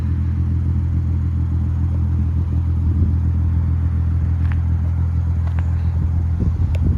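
Lexus IS350 engine idling, a loud, steady low rumble close by that holds evenly throughout, with a few faint clicks near the end.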